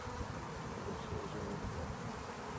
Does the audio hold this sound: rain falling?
no